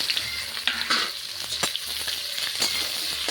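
Raw green banana hits a pan of hot oil tempered with cumin, bay leaf, cloves and cardamom, for a banana and chana dal curry. It gives a continuous close sizzle, with scraping stirs and occasional sharper spatters, and no speech.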